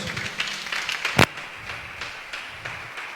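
Scattered clapping from a church congregation, uneven individual claps with one sharp close clap standing out, under a faint hum of the room.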